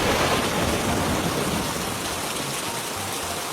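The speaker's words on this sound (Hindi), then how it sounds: "इस बारिश ने क्या कर दिया आज?" Heavy rain falls in an animated Hindi story, a dense, loud, continuous hiss of downpour that stays steady throughout, with a hint of distant thunder beneath it.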